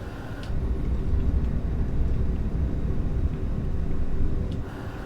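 The Archer Midnight aircraft in Microsoft Flight Simulator 2024 gives a quiet, steady low engine hum and rumble, faint and continuous, briefly starting and ending with soft clicks.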